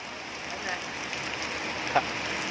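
Rain falls steadily on surfaces in a rural mountain village, a constant soft patter with one brief sharper sound partway through.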